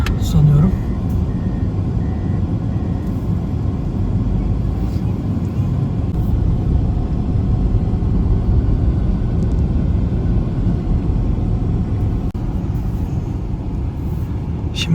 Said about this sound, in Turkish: Şu önde de yol açmak için bir araç geliyor hemen. Kar küreme aracı.